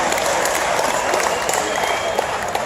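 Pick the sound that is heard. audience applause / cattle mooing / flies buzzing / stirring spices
audience applause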